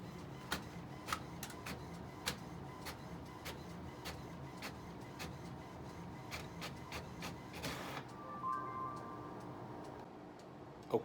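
An inkjet printer prints a dial decal onto paper, giving a steady run of sharp ticks and clicks as the print head shuttles, with a softer feed whir near the end.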